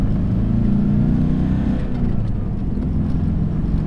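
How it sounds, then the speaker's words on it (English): Car fitted with a straight-through exhaust system and newly installed muffler, driving on a street with a steady, loud low engine drone that dips briefly midway, heard from inside the cabin with no talking. "we'll just take it for a drive on the street and see how it sounds."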